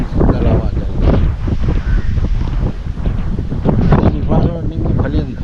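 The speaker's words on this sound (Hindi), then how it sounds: "नीम के नीचे खड़े हुए हैं, एकदम सुंदर हवा चल रही है" Steady wind blows under a neem tree outdoors, a loud continuous rush of microphone buffeting that runs throughout, with other faint background sounds mixed in.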